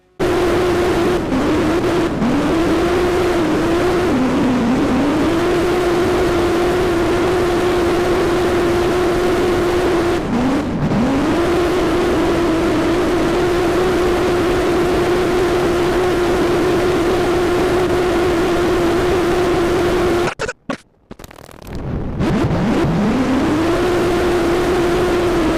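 A scooter engine drones steadily in the Indian Bike Driving 3D game, a loud sustained hum with brief pitch dips when easing off, and a short dropout near the end before it revs back up.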